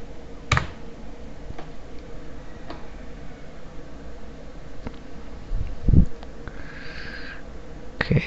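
Scattered keystrokes on a computer keyboard as a password is typed: sparse, irregular clicks with a couple of louder taps, close by over a faint background hiss.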